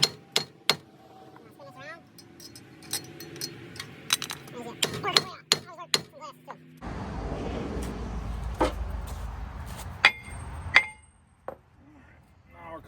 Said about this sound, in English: now we're gonna use our trusty sledgehammer here. And I'll give her a couple whacks